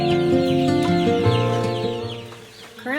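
Four-week-old Cornish Cross broiler chickens cluck and chirp close by, a busy overlapping chorus of short calls and peeps with a steady murmur of the flock underneath.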